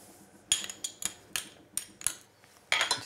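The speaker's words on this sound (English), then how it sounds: "Just give this a good stir." A spoon clinks and scrapes against a pot while mashed potatoes are stirred with butter and milk, giving a series of sharp metallic taps in an irregular rhythm, close and fairly quiet.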